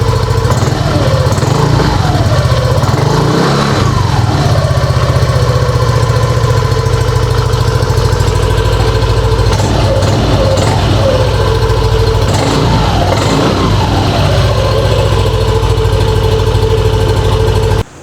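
A Yamaha NMAX scooter with an aftermarket UMA back-pressure muffler idles close by, a loud steady low engine rumble with a few small throttle blips, running alone until it cuts off at the end.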